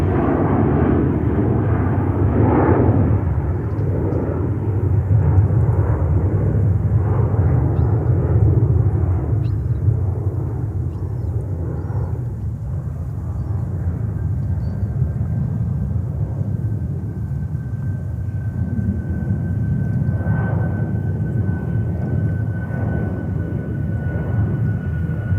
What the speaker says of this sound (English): The 747 in the background. Is it a 747-400 from Royal Air Maroc?